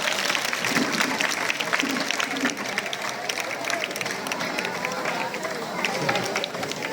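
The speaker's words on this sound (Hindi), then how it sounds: "आप लोग तालियां बजाइए, जोरदार तालियों से स्वागत कीजिए।" Loud, dense applause from a large crowd of students welcoming guests at a youth parliament event at a school in Dholpur, with voices mixed into the sustained clapping throughout.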